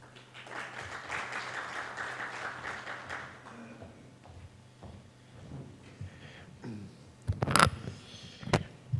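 Applause from a conference audience greets a keynote speaker on decarbonisation and export, a short soft round of clapping that fades out within a few seconds, followed by quiet rustling, scattered knocks and a few sharp handling noises.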